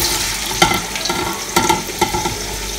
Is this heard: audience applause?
no